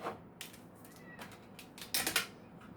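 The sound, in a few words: drawing tarot cards from the deck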